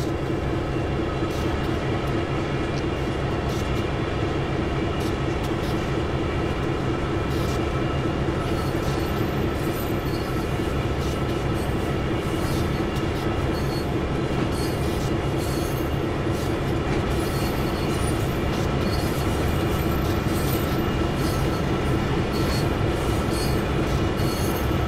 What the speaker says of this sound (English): we're on our way again